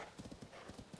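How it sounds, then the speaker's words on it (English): Horse hooves clip-clop in Zelda: Tears of the Kingdom as a ridden horse moves along at a steady trot, with quick, evenly spaced hoof beats that stay moderately loud throughout. "Maybe I'll ride my horse down."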